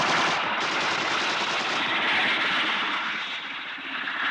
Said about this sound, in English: Destiny Angel, helicopter A42 is firing at me